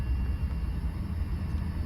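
A steady, low engine rumble holds constant throughout, like a Suzuki Wagon R's Apexi aftermarket exhaust idling nearby with no talking.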